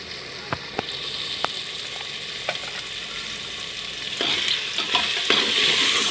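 A spoon stirs fenugreek, pigeon peas, eggplant and potato with spices in a sizzling pan, with sharp scraping clicks against the metal over a steady frying hiss that grows louder toward the end.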